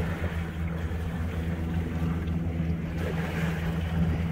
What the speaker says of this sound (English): I'm just in a tide pool along the ocean